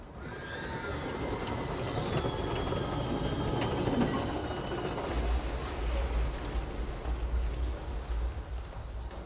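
A video game train, the Eagle Limited bound for Chicago in Control, rumbles along steadily with clattering wheels and a faint metallic squeal, continuous and fairly close, no voices.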